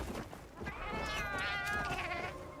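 A cat in the Monster Hunter Wilds video game lets out a drawn-out, wavering meow, close and clear, rising and holding for about two seconds with no talk over it.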